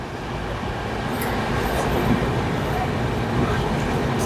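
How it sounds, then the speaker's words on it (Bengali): Inside the Howrah–Bengaluru Duronto Express running fast, a continuous low rumble and rattle of the coach goes on. Faint higher clatters and squeaks rise above it at times, and a brief voice is also heard. "ট্রেনটা এখন বিশাল জোরে চলছে"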